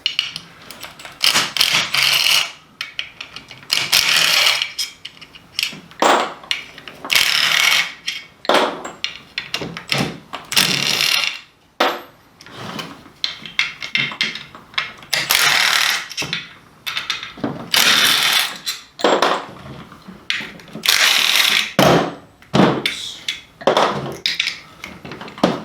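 Ratchet with an 8mm socket removing bolts from the rear differential of an all-wheel-drive CR-V, rapid clicking bursts of ratcheting repeated many times alongside clinks and handling noises, close and fairly loud.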